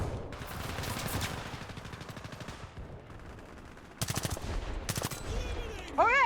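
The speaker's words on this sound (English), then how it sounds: "Oh god, someone's shooting at me." Enemy gunfire in the combat game War Thunder: rapid automatic bursts, some close and loud, others duller and more distant, arriving in repeated volleys with brief gaps between them.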